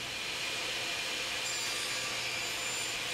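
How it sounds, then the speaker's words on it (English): A table saw fitted with a dovetail jig cuts tails in a wood board, producing a continuous, even high whine from the spinning blade with a steady cutting hiss, close and moderately loud. "With the jig set in your table saw's right-hand slot, go ahead and cut each right-hand tail mark."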